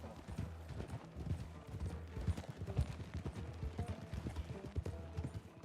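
Horse hooves clip-clop steadily while riding in Red Dead role play, a continuous close rhythm of hoofbeats with faint creaks of tack and gear and a soft voice briefly underneath.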